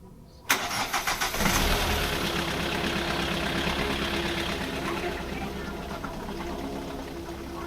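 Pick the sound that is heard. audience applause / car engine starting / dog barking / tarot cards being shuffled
car engine starting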